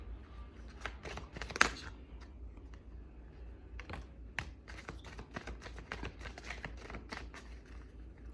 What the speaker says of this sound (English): I want to go ahead and pull some more energy cards here.